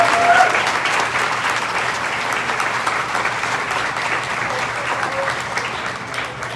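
Audience applause for Teacher of the Year nominees at an award ceremony, a steady, full round of clapping from a crowd that carries on evenly and tapers slightly at the end.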